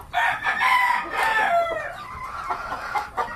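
A rooster, a male chicken with white on its tail, crows once nearby in a long, loud call with a drawn-out falling tail, followed by a few softer clucks.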